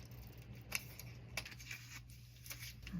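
Scissors cutting out a paper fashion tag, with quiet, close snips and paper rustles at irregular intervals against a faint steady hum, no talk.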